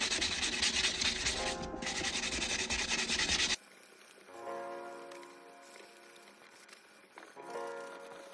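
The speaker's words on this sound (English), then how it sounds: "so 400 grit hand pad, and then I'm just going to go over the main surface of everything I can reach" A 400 grit hand pad rubs over the surface of a jade carving in a steady, close, hissing scrub. It drops to quieter, intermittent strokes partway through, with no talk.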